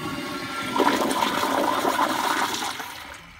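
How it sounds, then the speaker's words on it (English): A Kohler Kingston urinal with a flushometer flushes outdoors, a steady rushing gush of water lasting about three seconds before tapering off, close and fairly loud with no talking. "Here is another flush."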